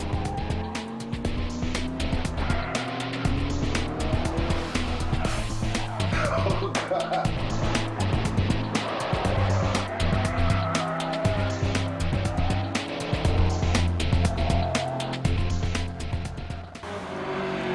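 A classic VW Beetle is driven hard through tight corners on a test track, its engine droning steadily while the tyres squeal repeatedly, loud and close throughout.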